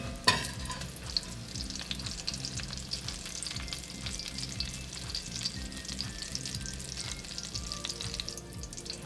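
Bacon fries in a pot for beef bourguignon, giving a steady close sizzle with light scraping and stirring, and a sharp clank at the start.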